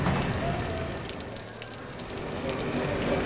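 Heavy rain falls in a steady, dense hiss that fills the whole stretch without a break, with no voices over it.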